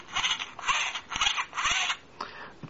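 Wheels of an electric toy locomotive are turned by hand, giving a series of close, rhythmic creaking whirs in short bursts, like a small motor grinding, with no voices.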